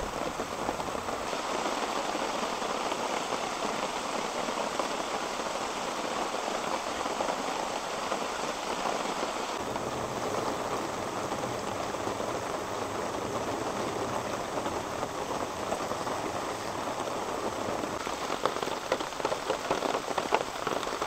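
Steady autumn rain pours down on a forest campsite with a tarp overhead, an even, dense hiss of drops drumming on surfaces that continues without a break and with no talking.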